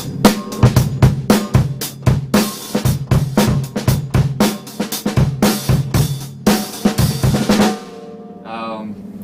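A drum kit plays a driving rock and roll beat, with steady kick and snare hits under constant bright cymbal wash, loud and close for about eight seconds before stopping, followed by a brief spoken voice.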